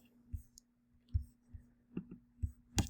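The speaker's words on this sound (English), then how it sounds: "we're going to click on RStudio." Several sharp computer mouse clicks spaced irregularly across a few seconds, close and fairly quiet, heard alone against a low steady hum while RStudio is opened on a Mac.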